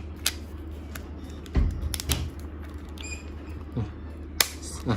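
Faint, irregular scratching and scraping on wood picked up by a BOYA BY-WM4 Pro K2 wireless mic on an iPhone 11, with a few sharp clicks scattered over a low background hum.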